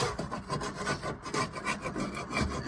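Old insulation is scraped off inside a 1969 Chevelle SS that sat for 37 years. A continuous, close, rasping rub of a tool runs in quick uneven strokes with no voices.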